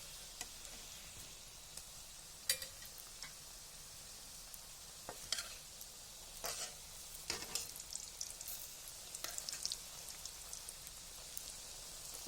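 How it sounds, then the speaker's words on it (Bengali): Noodle rolls frying in oil, giving a soft, steady sizzle broken by scattered crackles and pops, fairly quiet and with no talking. "ভেজে একবার লাল করে নেব।"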